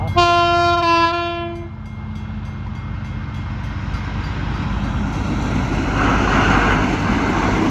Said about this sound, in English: they're just waiting for the train to come past